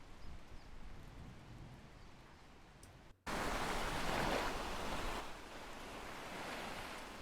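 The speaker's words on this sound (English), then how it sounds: "You should be hearing some nice ocean waves" Ocean waves used as a background ambience: a soft, steady wash of surf that suddenly jumps louder midway and then continues as a constant rushing roar.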